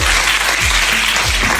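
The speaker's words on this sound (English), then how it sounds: "Give them a round of applause as they go to their seat." Loud, close, continuous clapping from an audience at an evening gathering as guests return to their seats, dense and steady for the whole moment.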